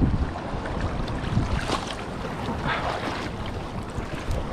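A fishing boat out at sea on a foggy day for shore-net fishing gives a steady, broad engine rumble blended with wind buffeting and wave wash, continuous and fairly loud with no voices.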